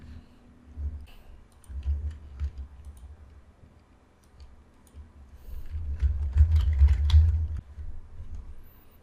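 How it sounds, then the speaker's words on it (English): Mouse and keyboard clicks while navigating IDE settings during a Java Spring Boot setup, a scatter of light, sharp clicks over a low hum, busier in the second half. "You can click on the setting here and go to the plugin."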